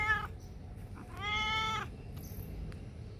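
A cat meows twice in an abandoned building, a short call followed by a longer drawn-out meow, fairly close against a low background rumble.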